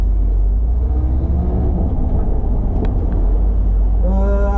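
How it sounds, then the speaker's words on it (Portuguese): Old car pulling away slowly in first gear, a steady low engine rumble close by throughout, with a brief rising whine near the end as it moves off. "vai arrancar a primeirinha marcha devagar"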